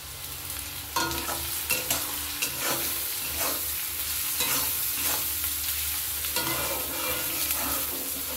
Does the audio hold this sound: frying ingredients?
yes